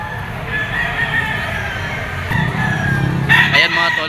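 Gamefowl stags at the Lipa auction market crow and cluck nearby, with a clear rooster crow rising above steady background clucking and crowd murmur.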